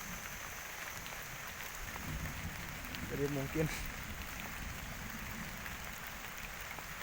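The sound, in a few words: heavy afternoon rain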